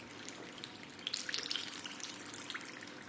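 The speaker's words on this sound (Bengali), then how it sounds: "একটু ধৈর্য নিয়ে ভাজতে হবে।" Vegetable samosas fry in hot oil with a soft, continuous bubbling sizzle that swells slightly midway, faint and close, with no talking.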